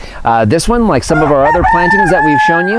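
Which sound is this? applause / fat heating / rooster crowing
rooster crowing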